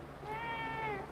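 A single drawn-out meow from an indoor cat, about a second long with a steady tone that bends downward at the end, fairly faint and heard alone.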